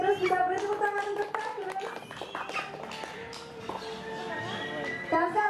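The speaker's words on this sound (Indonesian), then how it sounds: "Kita beri tepuk tangan untuk" Audience clapping at a bird show in Bali Bird Park, scattered hand claps mixed with a host's amplified voice and tonal sounds, moderately loud and close.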